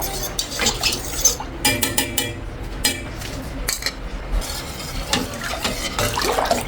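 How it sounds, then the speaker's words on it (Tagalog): A spoon stirs mango ice candy mixture of mango condensed creamer, Tang powder and cornstarch in a bowl, making steady clinks and wet swirling scrapes close by without talk. "continue lang sa paghalo"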